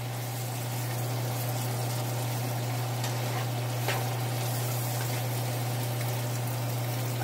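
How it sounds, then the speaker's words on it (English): Onions are sautéed over medium-high heat in butter and flipped around the pan, making a dense, continuous close sizzle with a brief scrape partway through, no voices. "You'll just see me flipping it around, making sure that it's evenly being sauteed."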